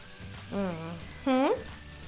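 Garlic sizzles in melted butter in a pan for a creamy chicken Alfredo, a steady soft frying hiss under two loud voiced sounds from a person.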